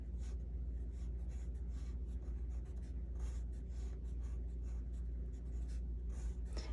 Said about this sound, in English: I'm going to write shape at the top.